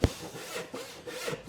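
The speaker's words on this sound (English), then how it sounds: "Let the weight of the saw do most of the work." A hand saw cuts through a wooden board in slow, rhythmic strokes, each pass a close, raspy scrape, with no one talking.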